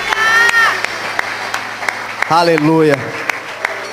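Church congregation applauding at a worship service, steady clapping throughout, with a voice calling out and singing over it partway.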